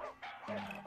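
Yapping dog barks from an episode of the Naruto anime, several short high-pitched yips in quick succession, loud and close in a brief burst.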